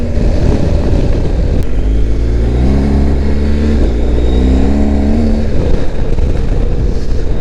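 A BMW GS Adventure motorcycle ridden off-road, a loud continuous engine drone with rising and falling revs, close up and dominating with wind rumble, no speech.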